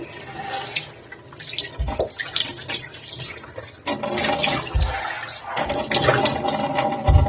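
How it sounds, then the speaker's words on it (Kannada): Hands and face washed with cool water after a scrub, heard as close, irregular splashing and trickling with a few low thumps and bursts of running water; no voice is heard. "ಈಗ ವಾಶ್ ಮಾಡ್ಕೋತಾ ಇದ್ದೀನಿ ಓಕೆ ಹ್ಯಾಂಡ್ ಮತ್ತೆ ಫೇಸ್ ಎರಡನ್ನೂ ವಾಶ್ ಮಾಡ್ತಾ ಇದ್ದೀನಿ"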